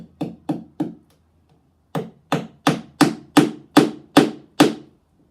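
Hammer blows drive tacks into a shield rim resting on an anvil: three quick taps, a short pause, then eight sharper, louder strikes in a steady rhythm, close and clear with no talking.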